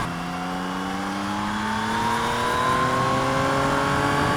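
A Yamaha Y-AMT motorcycle accelerates on a circuit in D+ mode, its engine note climbing steadily in pitch and loudness, a continuous rising whine heard close with wind noise.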